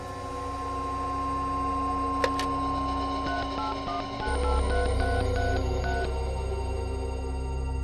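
A telephone is dialed to call someone, a quick series of short keypad tones stepping through the number over a steady background hum, followed by a low rumble.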